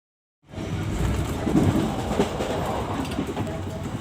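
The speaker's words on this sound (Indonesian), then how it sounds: "ini adalah suasana di dalam gerbong kereta api ekonomi" Economy-class carriage on the Matarmaja passenger train in motion, with a loud, continuous rumble of wheels and car body, faint rhythmic rail clatter and muffled voices, starting abruptly after a brief silence.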